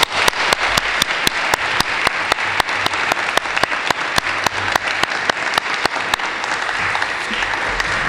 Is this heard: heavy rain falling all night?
no